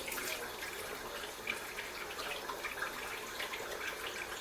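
Water runs steadily from a kitchen sink faucet while hard-boiled eggs are peeled beneath it, a continuous close hiss with no voices.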